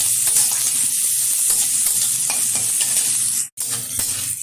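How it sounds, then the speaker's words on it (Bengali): Chopped green chili and garlic frying in oil as they are stirred in a pan, a steady loud sizzle with scraping stir strokes throughout and a brief break near the end, no talking. "একটু নেড়ে চেড়ে নেব।"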